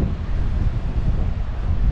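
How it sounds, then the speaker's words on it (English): Strong wind roars and buffets against the microphone at a Malta–Gozo ferry terminal, a dense, continuous low rumble with gusty fluctuations and no voices. "Wow, very windy."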